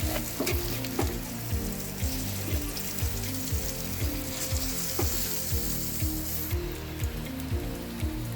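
Thin slices frying fast in a pan, a steady dense sizzle with regular stirring scrapes repeating about once a second, close and continuous with no voices.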